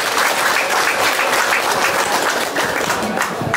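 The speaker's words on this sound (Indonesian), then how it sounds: "Tepuk tangan untuk Dapil 6." Loud, dense applause from a large crowd at an Indonesian Golkar party consolidation rally for electoral district 6 in Cilacap, steady clapping throughout with a faint background of voices.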